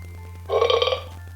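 A single short burp sound effect plays through the small speaker of a Mebo 2.0 robot toy, lasting about half a second, close and clear over a steady low electrical hum.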